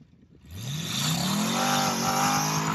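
A Chevrolet 327 Turbo Fire V8 fires up and revs, the pitch climbing steadily and holding at a high, loud roar close by, with no talk over it.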